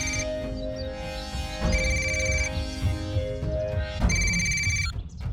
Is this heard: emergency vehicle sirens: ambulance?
no